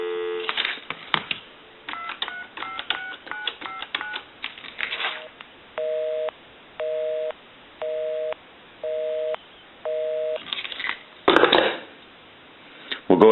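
A telephone line returns a busy signal: after a quick run of keypad dialing tones, five even, evenly spaced beeps pulse steadily, clear and close, with brief handling noise at the end.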